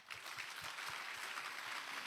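An audience claps together at an evening leadership event, a dense continuous patter of many hands with faint rhythmic thumps underneath, moderately distant and steady throughout.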